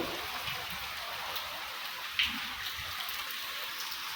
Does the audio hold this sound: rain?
yes